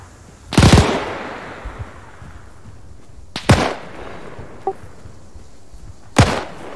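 Gunfire in the video game Arma 3, three sharp, loud single shots spaced a few seconds apart, each cracking and trailing into a short echo, with a faint click between.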